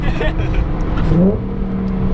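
An Audi B8/B8.5 S4 fitted with a Polo Performance exhaust revs on the road, a deep, throaty engine note rising briefly under steady road and cabin noise.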